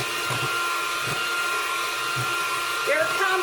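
An antique electric mixer runs with a steady, droning motor hum that carries close and even throughout, joined near the end by a brief rising whine.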